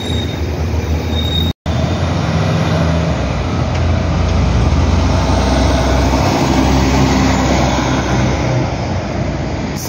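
A city bus rolls through a road-works detour on Avenida República Argentina in Curitiba, a loud, steady rumble of engine and road noise with rattling bodywork, broken by a brief dropout near the start.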